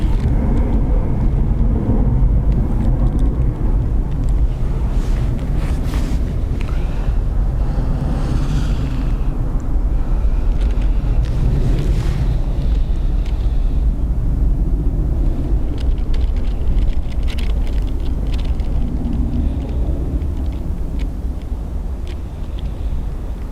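An Aer Lingus airliner takes off at Dublin Airport, bound for London Heathrow, producing a loud, steady jet roar and deep rumble that lasts the whole stretch without a break.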